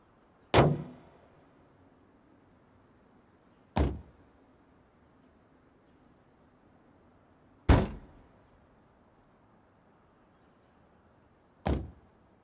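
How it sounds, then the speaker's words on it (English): Car doors thudding shut one at a time in BeamNG.drive, four separate solid slams spaced a few seconds apart, each a sharp close thunk over a quiet low hum, with no talking. "I'll let you listen to the doors close here."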